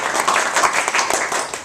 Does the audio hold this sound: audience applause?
yes